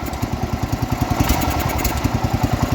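A 1969 John Deere 112 lawn tractor engine runs near idle with a sticky carburetor spot, chugging loud and close in a fast, even pulsing beat with no voices.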